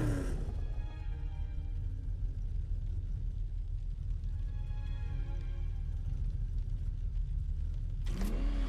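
Car engine in Batman: Arkham Knight rumbling and revving steadily throughout, a continuous near drone with a brief whoosh near the end.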